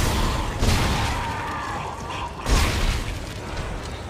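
A plasma cutter fires twice in Dead Space 2, with two sharp, loud bursts spaced about two seconds apart over a steady background of game ambience.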